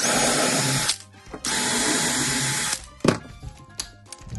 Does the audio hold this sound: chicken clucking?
no